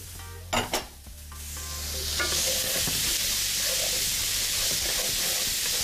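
Onions and carrots stirred in a hot pan while braising osso buco, a couple of sharp utensil knocks at the start, then a steady loud sizzle that swells and holds throughout.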